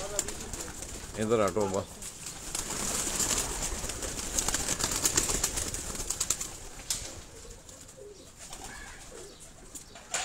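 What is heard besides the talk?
high-flying pigeons cooing and flapping wings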